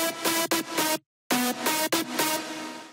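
Melodic drum and bass synth leads built in FL Studio with added percussion for transient punch, playing loud chopped rhythmic stabs, cutting out briefly to silence midway before resuming, with no voices.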